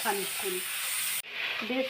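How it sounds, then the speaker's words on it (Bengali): Chicken meat frying in a pan for chicken soup gives a close, steady sizzle and hiss that cuts out abruptly for an instant, with a low voice murmuring briefly underneath. "এবার মাংসটা দিয়ে একটু ভাজা ভাজা করতে হবে"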